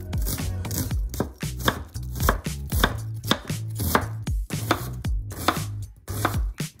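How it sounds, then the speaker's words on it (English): A knife finely chops an onion on a cutting board for Japanese home cooking, making steady, close, crisp taps with short pauses between runs, and no one talks. "Finely chop the onion."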